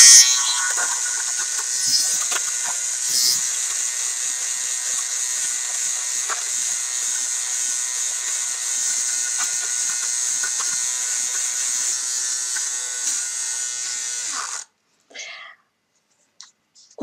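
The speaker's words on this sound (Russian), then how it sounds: "И вот это характерное пощелкивание, это как раз тот момент, когда узелок попадал в сеточку." An electric fabric shaver works over an old knit sweater thick with pills, giving a steady close buzz with faint clicking for most of the stretch before it switches off near the end.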